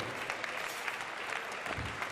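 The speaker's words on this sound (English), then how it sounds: "Clap for yourselves, everyone." An awards-show audience at the 19th Annual D.I.C.E. Awards claps and cheers for itself, a steady wash of applause filling the hall at moderate, slightly distant level throughout the short stretch.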